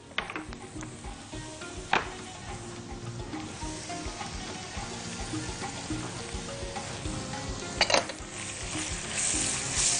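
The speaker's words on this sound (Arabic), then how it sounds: "معانا بصلاية ومعانا فص ثوم، ننزلهم ونشوح شوية" Onion and garlic sizzle in hot ghee with rice in a pan, a steady soft frying hiss broken by a few sharp clinks of a stirring spoon against the metal.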